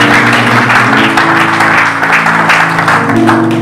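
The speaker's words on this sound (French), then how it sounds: "Je voudrais qu'on acclame le nom de Jésus" A church congregation applauds and cheers in acclaim of the name of Jesus, a sustained dense wash of clapping over steady sustained tones, loud and continuous throughout.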